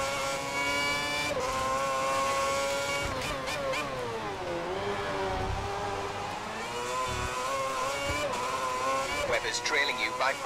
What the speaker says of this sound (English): I can't even come close to my braking zones without locking up my tires.